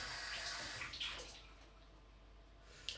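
Tap water running steadily, loud at first and then easing into a softer, continuous wash close by.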